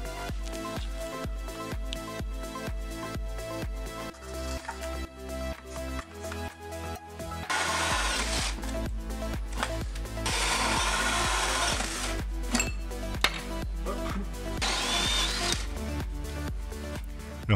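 A power drill cutting holes with a hole saw through wood for ventilation ducts during a home renovation, loud grinding bursts starting and stopping in stretches, with no one talking.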